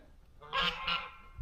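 Geese honking on a homestead during a winter storm, two loud honks close together, fairly near, with no talk.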